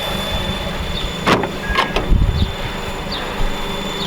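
A Honda Type R engine with a worn idler pulley runs with a steady drone and a thin high whine, and brief chirps and squeals come through close by over about four seconds.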